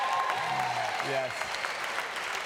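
A studio audience on a talk show claps in a brief patter of applause while voices speak over it.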